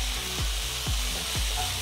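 Chopped tomatoes and ginger garlic paste fry in a pan for a dhaba-style aloo gobi curry, a close steady sizzle with three evenly spaced sweeping scrapes of a stirring spoon.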